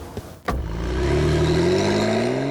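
A 2017 Porsche 911 Carrera 4 GTS with all-wheel drive and a seven-speed twin-clutch gearbox accelerates hard, a brief thump giving way to a loud, rising engine drone that climbs steadily and close.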